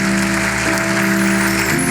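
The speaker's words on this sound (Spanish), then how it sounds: "Dale una ofrenda de palmas al Señor" A church congregation claps steadily in a sustained, dense wave of applause, with a held organ or keyboard chord sounding underneath throughout.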